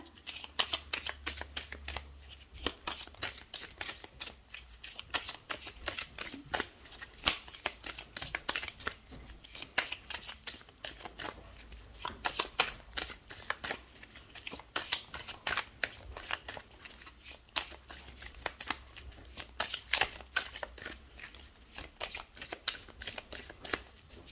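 Tarot cards are shuffled for a reading, a steady stream of soft riffling flicks and slaps lasting over twenty seconds, quiet and close, with no talking.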